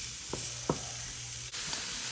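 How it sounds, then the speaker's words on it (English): Steady frying sizzle of vegetables sautéing in a pan with a few clinks and scrapes of stirring, close by, no voices. "Make sure that while your veggies are on the stove sizzling"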